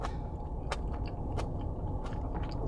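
Someone chews crunchy blanched vegetables tossed in salt and sesame oil, with a few sharp, close bites standing out over a steady, noisy background, with no talk.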